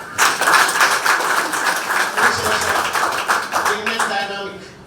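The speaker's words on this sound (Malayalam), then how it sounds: "big clap" An audience claps in a sustained burst of applause that gradually fades, with a voice speaking over the end.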